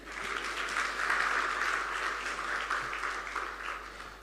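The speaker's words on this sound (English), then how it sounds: "A round of applause for you guys." Audience applause at an African science buskers festival: a steady wash of clapping from many hands, holding at an even level for a few seconds before easing slightly.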